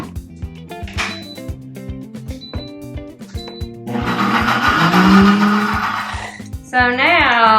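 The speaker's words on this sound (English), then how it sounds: "the longer you blend it, the smoother it'll be" A blender whirs loudly and close as it purees soaked, boiled cashews into a smooth oil-free Thousand Island dressing, the motor pitch shifting as the mixture thickens, preceded by some clattering and speech.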